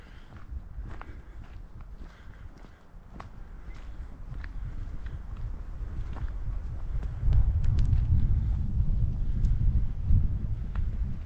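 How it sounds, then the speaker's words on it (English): Strong gusting wind on an exposed stretch of a hike at Finca Galatzo near Calvia, Mallorca, buffeting the microphone in a low rumbling roar that builds louder toward the end, with faint footsteps beneath. "the wind is really quite strong and gusting"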